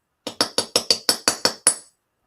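A light hammer taps very thin metal on a steel bench block at a jewellery bench, nine bright, ringing metallic strikes in a steady, even rhythm, close and clear with no talk.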